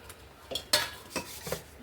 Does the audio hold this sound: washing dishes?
yes